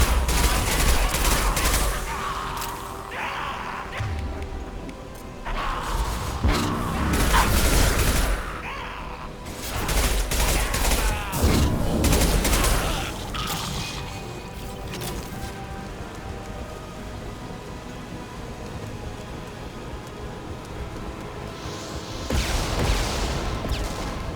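Gunfire in the video game Mass Effect 2 crackles in repeated bursts of rapid shots, loud and close, alternating with quieter stretches under a dense game soundscape.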